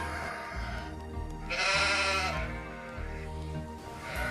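Sheep bleat loudly in a farm setting, one long wavering cry swelling in the middle, with fainter bleats and low background noise before and after.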